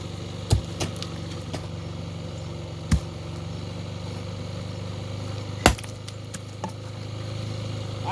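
A motorcycle engine idles at high revs while still cold, a steady near hum running throughout, broken by a few sharp knocks and clacks.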